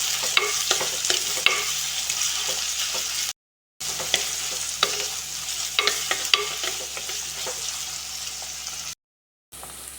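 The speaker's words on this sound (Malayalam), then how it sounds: "ഇതൊന്ന് വഴറ്റി കൊടുക്കാം." Sliced garlic, green chilli, chopped shallots and curry leaves sautéing in hot oil for a fish curry, with a continuous close sizzle and repeated scraping stirs of a spoon against the pan, and two brief silent gaps.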